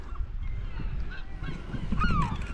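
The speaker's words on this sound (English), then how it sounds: "Nesting birds, like." Geese honking from nesting grounds on the west coast cliffs, with a few loud nasal calls rising toward the end over a steady windy background, fairly close, with no talking.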